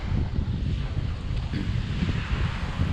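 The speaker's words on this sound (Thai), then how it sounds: "เสียงคลื่นซัดสาด" Waves crash on a beach in Rayong under an overcast sky, making a dense, steady roar mixed with heavy wind buffeting the microphone, with no talking.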